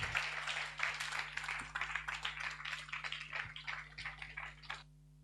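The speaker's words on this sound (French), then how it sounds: "Applaudissez-les." Applause from a panel audience, dense steady clapping for about five seconds before cutting off abruptly, no voices over it.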